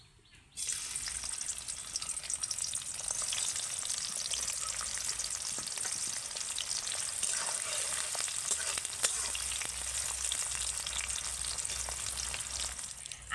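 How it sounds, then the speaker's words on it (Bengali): Chopped onions fry in hot white oil in a wok for an egg biryani, a loud, steady, crackling sizzle that starts abruptly and holds without pause, with no voices. "এবার আমি ওই তেলের মধ্যে কেটে রাখা পেঁয়াজগুলো দিয়ে দেবো"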